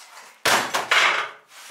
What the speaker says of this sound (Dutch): Dus ik ga gewoon even gooien met die hamer.